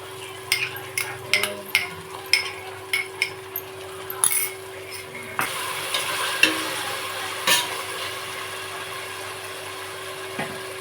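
Ginger garlic paste sautéing in a pan for mutton biryani, with a steady soft sizzle under a run of sharp spoon-on-pan scrapes and clinks, the stirring strokes coming in a quick regular rhythm at first, then a denser, louder hiss.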